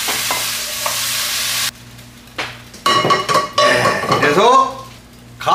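Stir-fried bok choy and mushrooms sizzle in a hot pan, then a utensil scrapes and clinks against cookware as they are scooped out onto a dish.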